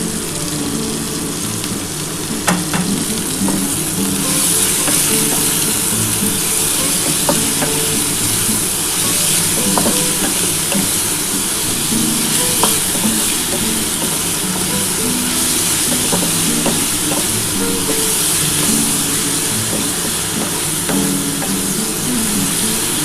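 Vegetables frying and being stirred in ghee in a pan for vegetarian fried rice: a steady, loud sizzle with faint clicks of the spatula scraping through it.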